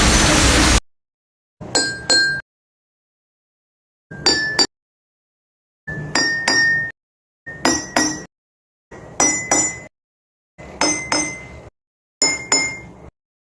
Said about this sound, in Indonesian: pada gelas-gelas ini sudah terisikan air, dan kita akan memukul setiap gelas yang sudah kita tentukan hurufnya